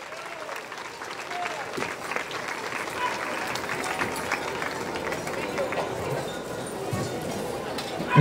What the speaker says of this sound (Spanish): Fuerte el aplauso para Emilio.